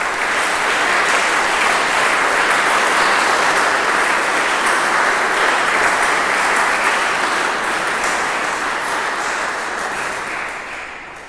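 A church congregation applauding during a live service, steady dense clapping that holds loud and full before easing slightly at the end, with no talk over it.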